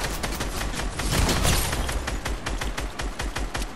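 Rapid automatic assault rifle fire in a video game, a loud continuous burst of closely spaced shots lasting several seconds.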